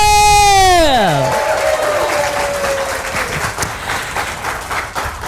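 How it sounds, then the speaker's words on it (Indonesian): An audience at a community health product event breaks into loud applause right after a voice's falling, drawn-out call, the clapping and cheering continuing steadily then slowly thinning. "Tepuk tangan lu buat komunitas Amazing True"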